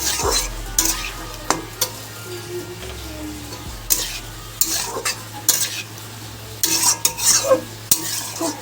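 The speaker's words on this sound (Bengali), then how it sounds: "এবার আমি জিরে ধনেটাকে ভালো করে এবার কষিয়ে নেব ভালো করে আমি একটু কষিয়ে নেব" Cumin and coriander fry in a pan for a drumstick curry while a spoon stirs them, scraping and clanking repeatedly. The scrapes come in bursts over a soft, close sizzle, and no voice is heard.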